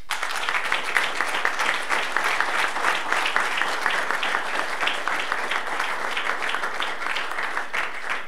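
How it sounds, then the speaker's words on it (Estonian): Applause fills the space at a sports recognition ceremony honouring a basketball team, with steady, dense clapping from a crowd that holds at an even level throughout. "nii et aplaus neile"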